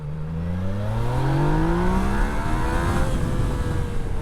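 A 2019 Yamaha Niken three-wheeled motorcycle accelerates steadily while riding, its engine pitch rising through the gears as wind noise rushes underneath, with no talking.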